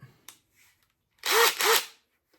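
DeWalt power tool with a socket fitted, given two short close bursts of whirring motor spin that rise and fall in pitch, after a few faint clicks and handling sounds.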